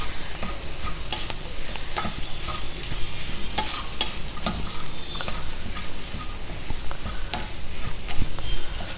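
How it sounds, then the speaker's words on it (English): Mashed potatoes with turmeric and salt are stirred in a hot pan, a continuous close scraping and soft sizzle with occasional spoon clicks against the metal. "Stir it for 2 or 3 minutes"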